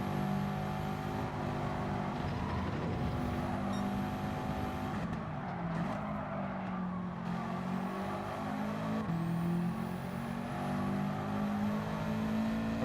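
A Subaru WRX race car engine in Gran Turismo 7 online daily races drones loudly and steadily, its pitch rising and dipping through gear changes and throttle lifts, with no talking over it.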